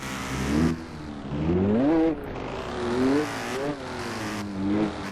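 A V6 car engine in the Roblox game Fix It Up revs and drives, rising and falling in pitch through repeated acceleration and gear changes, loud and close without talk.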